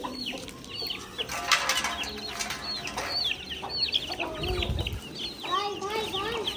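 Chickens cluck and squawk close by, and wings flap in bursts as the birds are fed. A voice speaks now and then among the clucking.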